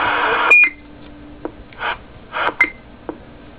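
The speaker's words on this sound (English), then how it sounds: "Switch right here is your Roger beep, and you're off. You can turn it on, make it beep," A Galaxy DX99V CB radio, modified, gives a short roger beep after a burst of static, followed by several brief blips and clicks at close range, with no one talking.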